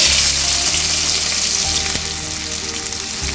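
Loud continuous sizzle of onions and green chillies dropped into hot oil in a pan, a close steady frying hiss with low hum underneath and no talk.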